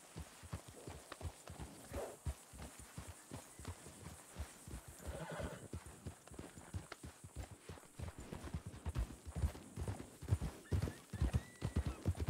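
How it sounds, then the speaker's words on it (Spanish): Horses in a ranch roleplay video game, hooves clip-clopping in a steady walking rhythm with whinnies and neighs mixed in, growing louder and closer toward the end. "Se asustan que flipas con el sonido de los caballos"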